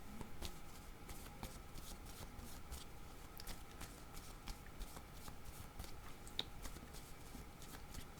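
Playing cards shuffled for a tarot-style card reading, a steady run of soft riffling flutters and taps repeating at an even rhythm, close and quiet with no voice over it.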